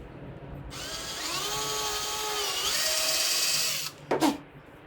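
A power drill bores screw holes in wooden shelf boards, whining loudly at a rising then steady pitch for about three seconds, then cutting off, followed by a short scraping burst as the bit pulls out.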